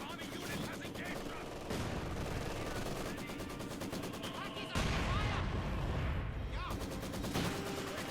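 Maxim and MG-42 machine guns fire in a Company of Heroes 2 battle, sustained rapid bursts of gunfire with a sharp jump in loudness midway, mixed with other battle noise.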